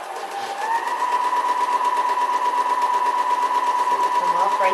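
A sewing machine stitching bias tape runs in a fast, steady whir of rapid needle strokes, close and continuous for the whole stretch, with a person talking over it.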